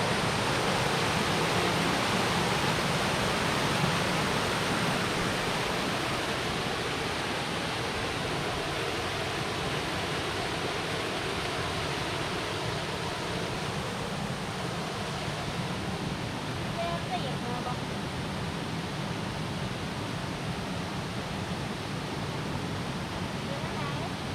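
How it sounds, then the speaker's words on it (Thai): A stream flowing down from Thung Khu near Phu Pha Man in Khon Kaen rushes in a steady, loud wash of water that stays even and unbroken throughout. "น้ำตรงนี้ครับไหลมาจากทุ่งคู่นะครับ"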